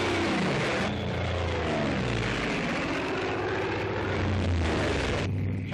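A Hellcat fighter's piston engine roars in a naval combat game, a steady, loud, broadband drone holding for several seconds with a slight dip near the end.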